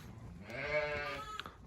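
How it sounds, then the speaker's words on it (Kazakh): A newborn lamb bleats once inside a warm barn, a single close, wavering cry of about a second, fairly faint, with a brief thump near the end. "Ал мына жақта туған қойлар шуылдап жатыр"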